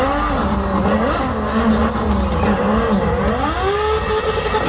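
Race car engine in a driving simulator game, revving and shifting with sweeping rising and falling pitch, loud and continuous with a faint tire squeal edge and no voices.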